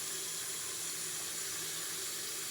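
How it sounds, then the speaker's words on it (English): Cold water pours steadily from a kitchen tap into a sink to rinse raw turkey legs, a continuous broad hiss and splash with no talking. "I'm going to rinse this off with some cold water"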